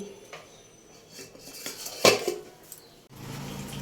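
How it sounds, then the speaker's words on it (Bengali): Sour yogurt being whisked in a bowl, heard as a few clinks and scrapes of utensil against the dish, one brighter knock near the middle, then a steadier low rustle, close and moderately quiet. "এই যে এখন টক দইটাকে ভালো করে ফেটানো হচ্ছে"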